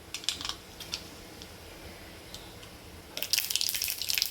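Mustard seeds added to about two spoonfuls of hot oil for a dal bati chutney, crackling in sparse scattered pops that build into a dense, bright sputter near the end.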